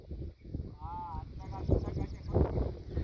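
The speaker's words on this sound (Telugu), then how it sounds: "మేకలు అయితే కొట్టుకొచ్చినాం అడవికి మేపడానికి" A goat bleats once with a short, wavering cry as the herd grazes in a forest, heard over nearby speech, rustling and shuffling hoof sounds.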